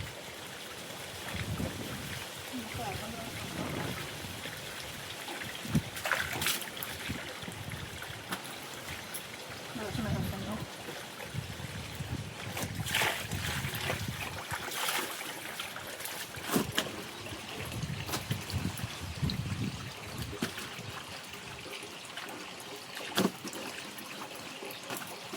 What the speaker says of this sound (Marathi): खाली चाललंय बघा ते पाणी